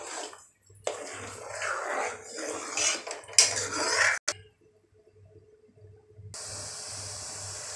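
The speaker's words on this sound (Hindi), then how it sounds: "इसमें चम्मच, इसको चम्मच चलाते जाते हैं ताकि नीचे बैठे मत।" A spoon stirs and scrapes milk cream in a pot while ghee is being made. Close metallic clinks and scraping come in uneven bursts, then settle to a faint simmering hiss.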